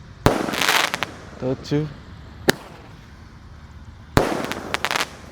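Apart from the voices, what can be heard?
1-inch Roman candle firework shots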